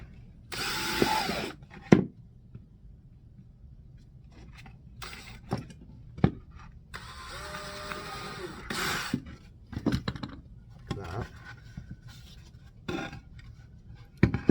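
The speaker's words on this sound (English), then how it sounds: "go ahead and pre-drill a couple of holes here" Several short bursts of a power drill pre-drilling holes in wood for a pickup truck storage drawer, separated by pauses with small handling knocks and clicks, close and fairly loud.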